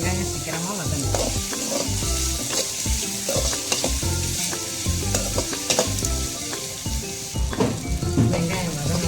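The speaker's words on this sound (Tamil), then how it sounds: "நல்லா வெங்காயம் வதங்கிறதுக்கு கொஞ்சோண்டு உப்பு போட்டுக்கணும்." Onions sautéing with salt in a pan, a steady loud sizzle and frying hiss throughout, with repeated clinks and scrapes of a spoon stirring against the pan, and faint talk beneath.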